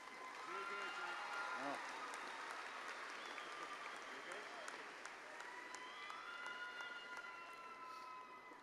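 A large crowd applauds graduates at an MBA graduation ceremony, a steady faint wash of clapping heard from a distance in a big hall, with some voices and cheering drifting over it.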